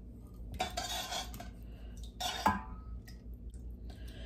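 A metal spoon scrapes and clinks while scooping sugar into glass jars of cherries, in two distinct bursts of clatter separated by a short pause, close and moderately quiet.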